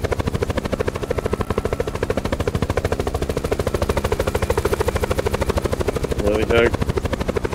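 A helicopter in Call of Duty Black Ops 4 Blackout drones with a loud, rapid rotor chop that runs steadily throughout, while a voice speaks briefly near the end.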